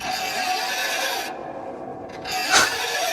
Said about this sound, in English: If I rub a coin down the bass strings, you may remember or hear something familiar